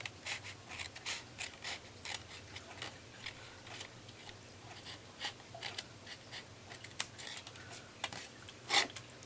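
Scissors cutting fabric scraps at an angle, giving a series of faint, quick snips and light scratchy cuts in irregular rhythm, close by in a quiet room with no talk.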